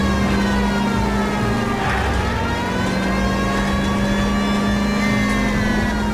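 A car engine hums and revs steadily while driving straight ahead in the L.A. Noire video game, a siren-like whine rising and falling over it; loud and continuous with no talking.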